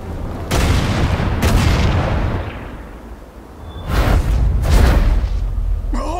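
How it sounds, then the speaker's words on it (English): Heavy cannon fire in the Valkyria Chronicles 4 video game, with several loud booming blasts, two early and two later, separated by a quieter rumbling stretch and with no talking over them. "Holy shit! Cannon fire!"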